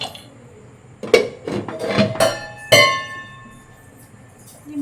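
A metal lid is set onto a pan of a semolina chila: several bright clinks and ringing metallic clatters in quick succession, close and fairly loud, with no talk.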